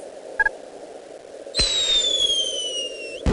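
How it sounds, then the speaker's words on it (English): A firework launches in a 1998 Edmark CD-ROM video game with a bright rising whistle that slides steadily for about two seconds, preceded by a short electronic blip and ending in a sharp burst. "we'll help Fraction Man launch the fireworks"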